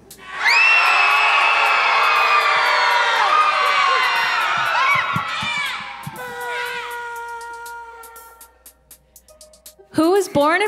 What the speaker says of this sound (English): Please scream now.